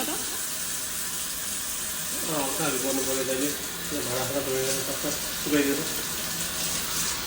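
Tap water runs steadily into a sink while dishes are washed, a constant hiss broken by brief clatters, with people talking over it.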